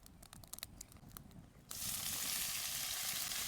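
Ivy gourd (tondli) hits hot oil in an iron kadhai over a wood-fired chulha, bursting into a loud, steady hiss after a few scattered clicks and taps.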